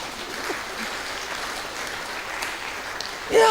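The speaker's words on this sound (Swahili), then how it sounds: "Si ungepigia Yesu makofi." A church congregation during an English-language service applauds, a steady wash of clapping from many hands filling the room, with a voice breaking in near the end.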